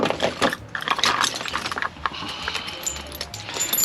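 A 10 mm socket is picked up from a pile of metal tools, giving a few sharp, close metallic clinks and light rattles with short pauses between them.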